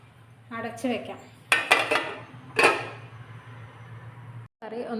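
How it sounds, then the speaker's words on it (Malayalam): Metal lid set onto a cooking pan of jackfruit seeds, a few sharp clattering clinks in quick succession with softer metallic handling before and after, close and clear in a quiet kitchen. "അടച്ച് വയ്ക്കാം"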